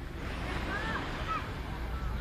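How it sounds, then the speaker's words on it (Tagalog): Steady wash of sea waves on the shore at Boracay, a continuous broadband surf roar with wind noise, close and fairly loud, with faint voices drifting over it. "Teka lang, ito yung dagat."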